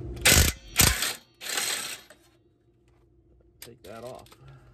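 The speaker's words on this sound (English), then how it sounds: "we're just going to go ahead and with a 14 millimeter socket," A ratchet with a 14 mm socket works a penetrant-soaked catalytic converter bolt loose on a 2004 Toyota Sienna with 188k miles, giving several loud, close clicking bursts followed by quieter metallic rattles and a voice.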